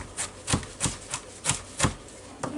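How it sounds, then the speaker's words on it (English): Vegetables chopped on a cutting board with a big knife: close, crisp thuds repeating at a steady pace, about eight strokes, alone with no voice. "get this stuff all chopped up pretty fine"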